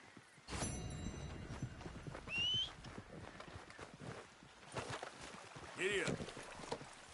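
Horse hooves clip-clopping at a gallop in the Red Dead video game, a steady rhythmic patter under game ambience, with brief voices and a whistle-like tone partway through.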